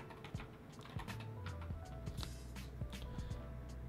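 Rapid clicking keystrokes on a PC keyboard while entering a search for a Windows 10 live wallpaper app, close and fairly steady with a few louder taps.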